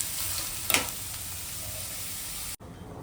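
Onions fry in a pan for prawn masala, a steady close sizzle with a brief stirring scrape partway through before the sound cuts away.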